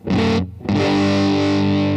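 Reverend Rick Vito signature electric guitar played through its P90 neck pickup with the volume turned up, giving a loud distorted chord, a brief gap, then a second chord ringing out and sustaining.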